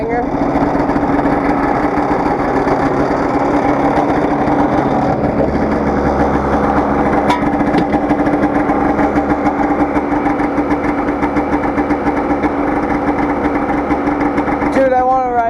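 A 2009 Polaris Trail Touring snowmobile with a two-cylinder engine idles after a cold start, giving a loud, steady, close-up drone that runs unbroken for the whole stretch, with a brief rise near the end.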